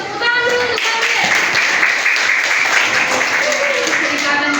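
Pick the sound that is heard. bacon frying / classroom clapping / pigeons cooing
classroom clapping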